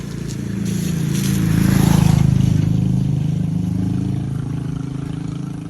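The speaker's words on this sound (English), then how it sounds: "There's a vehicle." A vehicle drives past on a street while it rains, its engine and tire roar swelling to a peak and then fading away.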